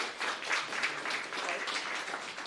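A round of applause at a startup pitch event, steady moderate clapping from a small audience heard at a distance.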